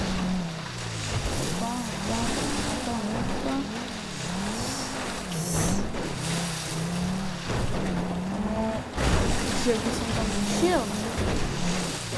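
Motorboat engine in a video game, a steady droning hum with a wavering, rising-and-falling pitch as the boat travels along a small river, running continuously throughout.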